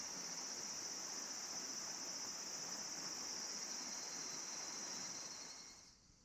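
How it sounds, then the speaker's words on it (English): Cicadas drone steadily in the summer mountain forest, a dense high buzzing that holds level for several seconds before fading out at the end. "Everywhere, I can hear the sound of cicadas."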